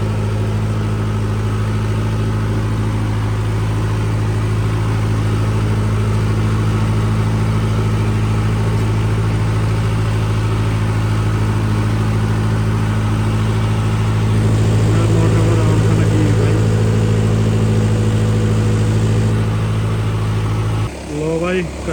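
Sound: generator engine running the water pump

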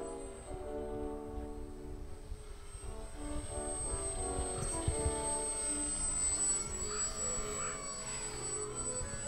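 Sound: radio-controlled model airplane engine in flight

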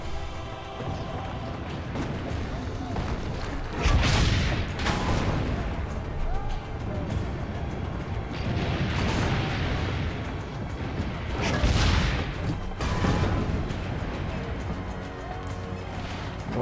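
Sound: cannon fire in video game Assassin's Creed Brotherhood

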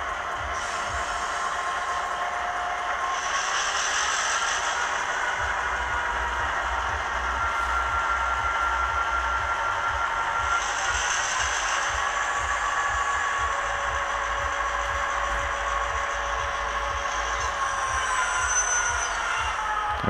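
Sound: model railway B class locomotive running on track

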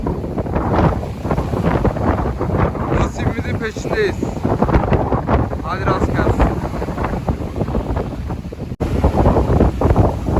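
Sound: wind and rough waves by the sea

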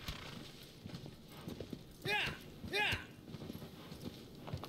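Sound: horse hooves clip-clopping in video game Shadow of the Colossus

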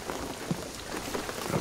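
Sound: rain in the video game Shadow of the Tomb Raider

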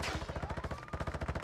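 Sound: gunfire from a video game (Warzone)

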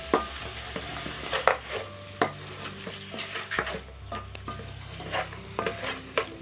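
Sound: stirring coriander and mint into pulao base

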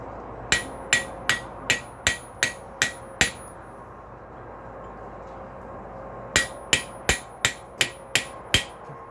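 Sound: hammer striking a chisel to carve a rail spike

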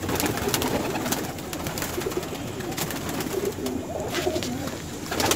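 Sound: Madrasi pigeons cooing

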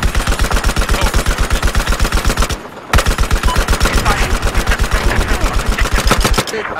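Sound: machine gun fire in a video game

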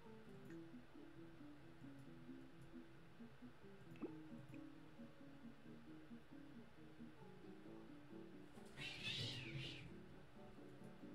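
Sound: pet cats meowing

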